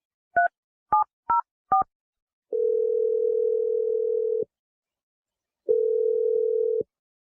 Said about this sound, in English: I'm going to dial it, and we're going to get you your second date.